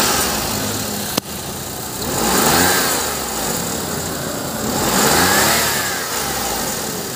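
Suzuki minivan engine running with a cracked drive belt and a worn idler bearing, a close, loud mechanical whir with a gritty belt noise, rising and falling gently in revs, and one sharp click near the start.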